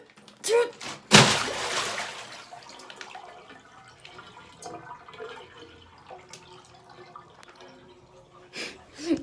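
A heavy water-filled bag bursts with a sharp loud slap and gush, followed by water splashing and dripping for several seconds, with people talking and exclaiming around it.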